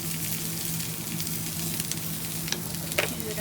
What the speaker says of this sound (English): she's putting on the fat first in order to flavor both the grill and the